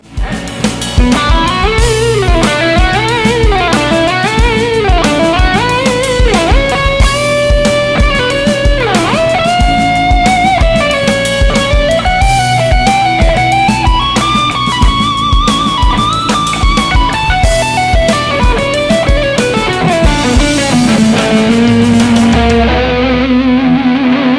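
Electric guitar played through an Eventide Riptide effects pedal, a driven bluesy rock tone with melodic lines over a steady backing, loud and continuous throughout.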